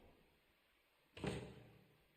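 A door in the ghost-hunting game Phasmophobia swings shut with a single sudden thud that rings out briefly against a quiet, faintly hissing background.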